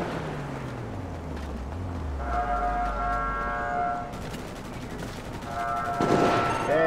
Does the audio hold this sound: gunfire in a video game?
yes